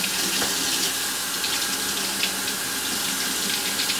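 Running tap water splashes steadily over a huge fresh fish fillet in a kitchen sink, a close, continuous gushing with small flicking splashes as it's rinsed.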